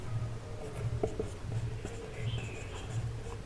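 A pen writes on paper, close and steady, with repeated scratchy strokes and brief pauses over a low background hum. No one speaks.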